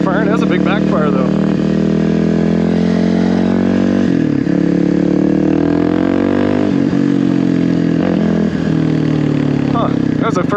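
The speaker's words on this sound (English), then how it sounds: "Huh, that's the first backfire I've heard. Popped really loud." A Kawasaki KLX300R motorcycle engine with a newly installed EJK fuel tuner runs loud and close, its revs rising and falling, with a sharp backfire pop breaking through the steady engine note.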